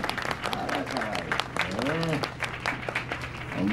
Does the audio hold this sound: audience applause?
yes